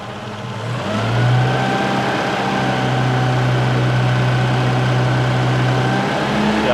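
A car engine idles during tuning with a steady, close, mid-pitched hum, briefly rising in revs at the start before settling into an even idle drone.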